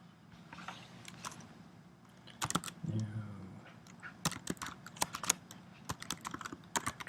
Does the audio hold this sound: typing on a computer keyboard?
yes